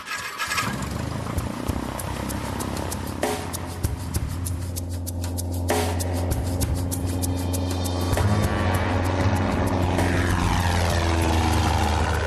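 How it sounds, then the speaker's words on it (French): A small propeller airplane flying from a desert airport toward low mountains, its engine a loud, steady droning roar with a strong low hum from a close interior perspective, rising slightly in pitch partway through. "l'avion nous emmène dans une chaîne de montagnes basses"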